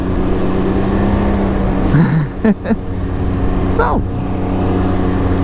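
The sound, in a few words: Can-Am Ryker three-wheel motorcycle riding in parking lot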